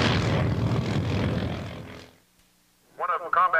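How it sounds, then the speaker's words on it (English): A fixed-wing propeller airplane flies past at an airshow, its broad, loud engine roar filling the first two seconds before fading into near silence, then a loudspeaker voice starts up. "That's the way to get an airplane off the top of a van."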